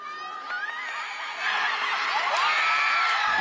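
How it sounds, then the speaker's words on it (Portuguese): Spectators at the rhythmic gymnastics world championship in Rio de Janeiro cheer, whoop and whistle in a large arena, the crowd noise swelling louder partway through and staying dense to the end. "2 brasileiras levantaram o público no primeiro dia do Mundial de Ginástica Rítmica no Rio de Janeiro."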